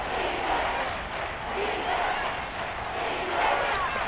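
A simulated stadium crowd in Madden 23 roars steadily during a Texans vs Dolphins NFL game ahead of a big third down, a dense, continuous wall of cheering that swells slightly near the end.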